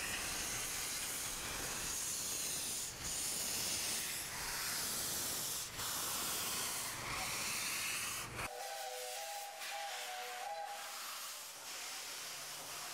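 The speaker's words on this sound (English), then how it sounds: "locomotive is used for a special safari steam service on the Mombasa Voi line" A restored steam locomotive on the special safari service of the Mombasa–Voi line in Kenya gives off a loud, steady rushing hiss for about eight seconds, then cuts abruptly to a quieter, thinner hiss with a faint whistle-like tone.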